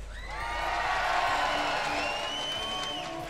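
An esports arena crowd at Rod Laver Arena cheers and whoops for the Sydney Drop Bears, a loud swell of many voices rising, peaking and easing off over a few seconds.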